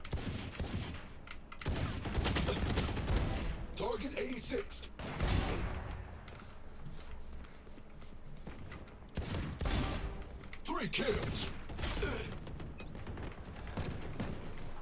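Bursts of gunfire in a shooting video game, played with a Logitech G Pro X Superlight mouse, come as repeated rattling volleys and booms with short gaps between them, loud and close.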